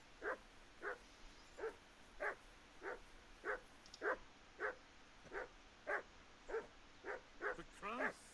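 A dog barks in a steady series of about a dozen evenly spaced woofs from moderate distance by a riverbank camp, each bark distinct over a quiet background, ending with a quick burst of yips.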